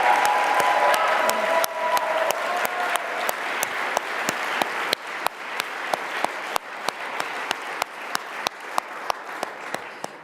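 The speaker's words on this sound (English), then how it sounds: "Can we just have a round of applause for our alumni?" Alumni of a civic leadership academy applauded at a welcome ceremony, the clapping close and full at first, then thinning into scattered, sharper individual claps over about ten seconds with no talk.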